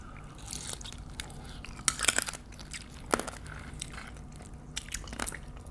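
Close wet crunching and chewing of raw soy-marinated crab, with several sharp cracks between softer squishy bites and no talking.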